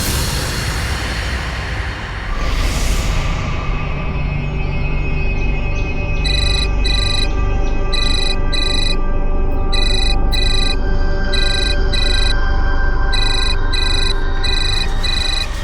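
A telephone rings in a home, its electronic ringtone repeating in regular short bursts over a steady, busy background.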